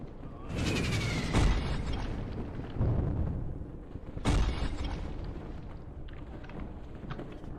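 A fireball spell exploding in the game Mage Arena: two heavy booming blasts, each followed by a rumbling, crackling tail, with a voice speaking faintly underneath.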